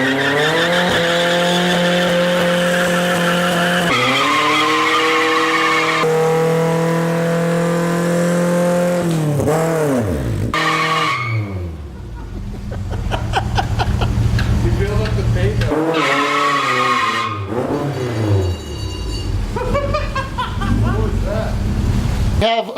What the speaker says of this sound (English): his car won't do a burnout, but mine will all day